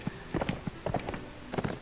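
Horse hooves pound in quick irregular clusters as the animal runs in the video game Blood and Gold, close and moderately loud over a quiet background.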